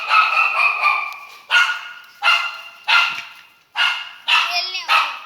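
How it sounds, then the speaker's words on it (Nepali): A dog barks in a series of sharp, loud close bursts with yelping and whimpering edges, about seven separate barks spread across several seconds during an attack. "कुकुरले मार्दै रहेछ कान खाएर"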